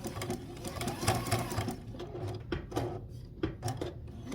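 A sewing machine stitches a zigzag while a bee-themed quilt block is pieced, a steady mechanical whir with rhythmic clatter that pauses and restarts, close up.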